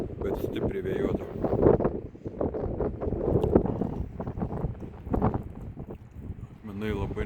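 Strong gusts buffet the microphone high on a rocky, windy summit, with low rumbling surges rising and falling while someone talks throughout.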